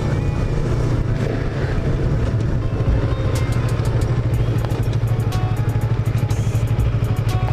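A Bajaj Pulsar RS200 motorcycle cruising on a highway, its engine droning loud and steady throughout under heavy wind rush, with no speech.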